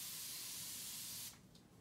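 A spray bottle lets out one long, close hissing spray that cuts off sharply, leaving a quiet hush.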